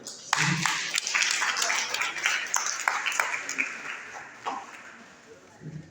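Scattered applause rises and then tapers off, individual claps audible within it, with voices speaking under the clapping as it thins out.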